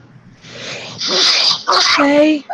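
A single sneeze from someone at a special needs Bible study class, loud and close, a sharp burst followed by a brief voiced tail, with talk nearby.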